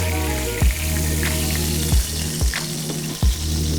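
Beef steak cooked to medium in a Hong Kong restaurant kitchen, a loud steady sizzle in the pan with a constant low hum behind it and four short thumps or scrapes, no talking.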